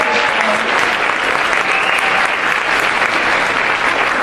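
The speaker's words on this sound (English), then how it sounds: "everybody deserves another round of applause" Audience applause after a high school drama show, a dense steady wash of clapping hands filling the room at full loudness throughout, with no break and no voices standing out.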